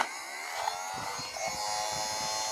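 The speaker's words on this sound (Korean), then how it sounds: "이거는 청소기" A small electric desk vacuum cleaner switched on and running close by, giving a steady, even buzzing whir that holds at the same level throughout.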